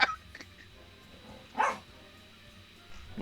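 A dog barks sharply a couple of times, fairly distant and faint against a quiet room background, with a short pause between barks.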